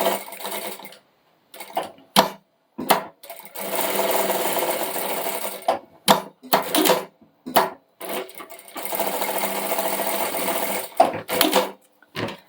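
Sewing machine stitches a small bag's pocket closed in short bursts and longer steady runs of rapid mechanical whirring, broken by pauses and small clicks as the fabric is adjusted, close and clear.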